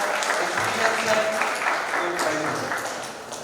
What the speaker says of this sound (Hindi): यस, इनके लिए तालियां बजाएं।